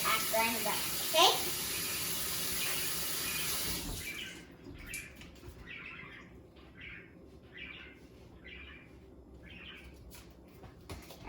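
Tap water runs steadily for handwashing in a kitchen during candy making, a close, even rush for about four seconds that then cuts off, leaving quiet room tone with birds chirping in the background.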